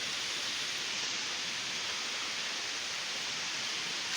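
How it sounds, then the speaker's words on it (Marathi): A spring trickles near a small tank and pond in a rural Konkan village, a constant, unbroken watery hiss heard alone. "इथे एक झरा आहे"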